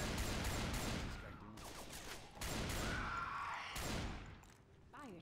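Automatic gunfire with fire bullets in the video game Left 4 Dead 2 Versus, a steady stream of shots with brief breaks, fairly close, with background voices underneath.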